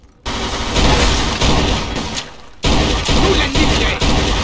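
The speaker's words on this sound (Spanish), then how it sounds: "¡Disparan desde arriba!" Gunfire in Mafia II comes as loud, dense bursts of shooting that cut out suddenly and then resume, with some voices underneath.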